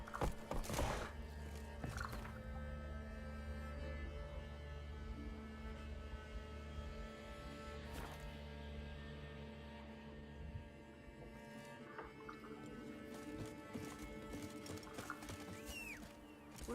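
Geralt's horse Roach in The Witcher 3 gives a steady run of hoofbeats beneath a dense bed of game music, with a low hum throughout and brief snorting sounds.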